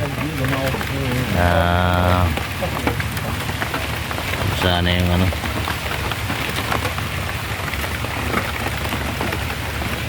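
Steady rain falls outdoors near a tarp, a dense constant patter that runs the whole time while people talk briefly over it.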